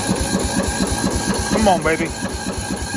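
A 1999 Briggs & Stratton 14.5 OHV engine starts cold on a freezing day in Texas and chugs in a steady, rhythmic beat up close, while someone speaks briefly over it.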